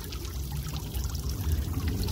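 Water pours steadily for about two seconds, a low continuous splashing and trickling that runs evenly throughout with no voices.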